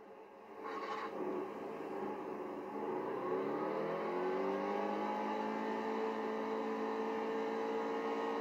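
A NASCAR race car engine in a racing video game revs and climbs steadily in pitch, a continuous whining drone that builds and holds at high speed.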